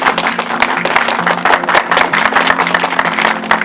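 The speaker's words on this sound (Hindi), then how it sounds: "एक बार मैं चाहूँगा कि जोरदार तालियों से सर का स्वागत करेंगे" Loud applause from a gathered crowd welcoming a guest at a political event: dense, continuous clapping close by, with a few individual claps standing out and faint voices underneath.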